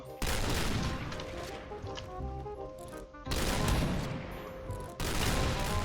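Sustained automatic gunfire in a shooter video game, loud, close bursts broken by two brief pauses, with a voice faintly present underneath.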